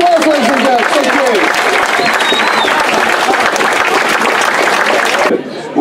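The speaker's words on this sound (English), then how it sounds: "Can we have a round of applause, ladies and gentlemen?" Loud, dense applause from a large football match crowd, sustained clapping with some cheering voices mixed in, then cutting off abruptly near the end.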